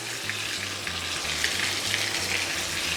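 Onions, celery and carrots sizzle steadily in a pan, a constant close crackling hiss with faint stirring, no voices.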